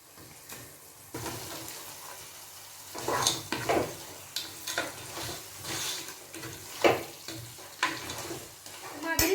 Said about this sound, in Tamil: நண்டு சேர்த்ததுக்கு அப்புறம் இந்த மசாலா எல்லாம் நண்டில் நல்லா மிக்ஸ் ஆகுற மாதிரி இதை நல்லா கிளறி விடணும்